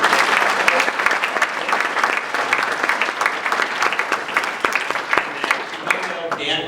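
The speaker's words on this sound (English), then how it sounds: "Big round of applause." Sustained audience applause fills a conference hall, dense and steady throughout, with scattered sharper claps standing out before it thins near the end.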